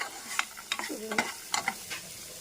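Grated coconut and ginger fry in a little oil for a mint-coriander chutney, giving a soft crackling sizzle broken by several light scraping stirs, close and fairly quiet with no talking.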